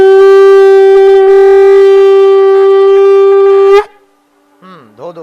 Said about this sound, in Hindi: फिर से शंख बजा दें।